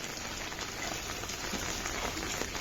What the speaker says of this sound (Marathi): आता पाऊस पाऊस आहे